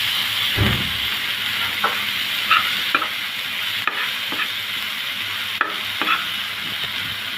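Chopped coriander leaves stirred with spices in a hot pan, a steady sizzle with repeated scraping strokes of a spatula at an irregular pace, close and loud, with no speech.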